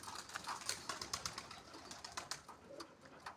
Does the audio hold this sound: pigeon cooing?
yes